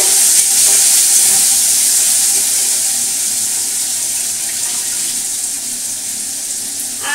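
Diced potatoes hitting hot oil tempered with black cumin, a loud rushing sizzle right up close that slowly settles into a steady fry.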